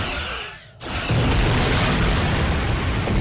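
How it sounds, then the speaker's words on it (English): Starship phaser fire in the Star Trek Online space game: a sudden loud burst after a brief dip, then a sustained, roaring energy blast that holds steady for a few seconds, with no talking. "once we're targeted the ship, we can fire phasers"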